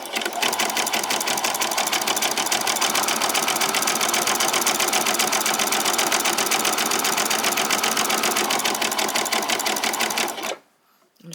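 A sewing machine runs a zigzag stitch on pajama bottoms, a steady, rapid mechanical whirr with a dense needle rhythm that continues loud and unbroken for about ten seconds before stopping abruptly.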